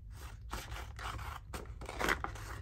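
Scissors cutting up paper for an ephemera holder craft, a series of about five close, crisp snipping strokes in an uneven rhythm, alone with no talk.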